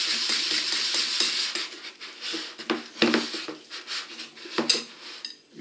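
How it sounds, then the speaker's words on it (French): Savory pesto madeleine batter being mixed in a bowl just after oil goes in, with irregular clinks and scrapes of a utensil against the bowl and short pauses between strokes. "À chaque fois on donne un petit coup de mélange."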